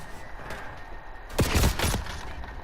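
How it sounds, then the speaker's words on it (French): Gunfire in the Call of Duty video game, a quick burst of several loud shots close together in the middle of the clip over a constant game background hum. "Déjà ça me tire dessus."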